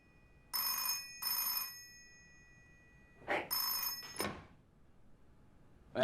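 An office telephone rings in two double bursts, then again after a pause, loud and close in a quiet room, followed by a thunk like a door.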